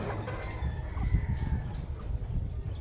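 A gray Joe Sanford 5K sweater gamefowl clucks softly and continuously, with low, murmuring calls close by among light farmyard noise and no talk.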